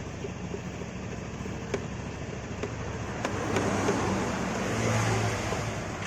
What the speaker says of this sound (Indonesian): Ini kondisi mesin hidup ya.